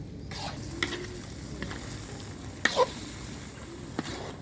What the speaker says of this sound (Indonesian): Kita masukkan jengkolnya. Ini lanjut kita aduk sampai merata.